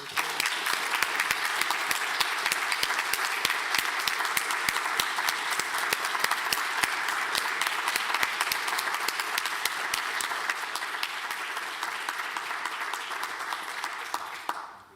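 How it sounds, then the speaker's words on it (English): An audience at a Grade 8 closing ceremony applauds steadily for about fifteen seconds, a dense even patter of many hands that holds at one level and tapers off only at the very end. "And let's give a round of applause for 802."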